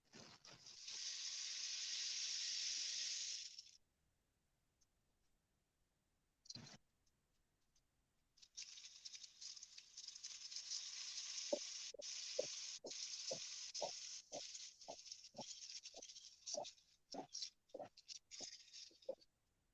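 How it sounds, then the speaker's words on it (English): A giant rain stick gives a soft, close hiss that fades after a few seconds. After a pause it is tipped again into a longer rustling cascade with a regular series of distinct ticking clicks. "You can grab the giant rain stick, which is next to the walking sticks."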